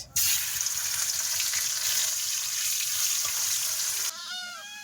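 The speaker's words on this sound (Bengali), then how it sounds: "তো আমার এখন মাছ ভাজা হচ্ছে" Bogi fish sizzles steadily in hot oil in a pan, a loud continuous frying hiss that cuts off near the end, followed by faint high chirps.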